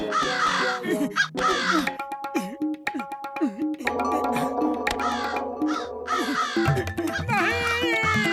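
Crows cawing and attacking in a cartoon scene, with repeated harsh caws and squawks close by, mixed with cartoon sound effects and brief vocal exclamations.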